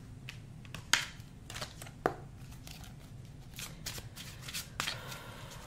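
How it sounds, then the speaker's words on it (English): Tarot cards being shuffled and pulled from a deck, a soft continuous riffling and sliding with a few sharper snaps of cards, close and fairly quiet, no talking. "I'm gonna pull some more cards and see here."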